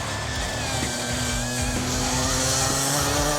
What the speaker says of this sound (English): The revs sound high.